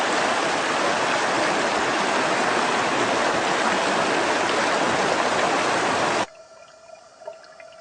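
A stream of water rushing steadily over rocks makes dense, loud, continuous noise close by, then cuts off abruptly to a much quieter, near-silent background near the end.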